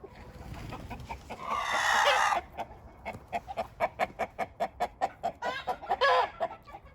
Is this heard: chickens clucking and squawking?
yes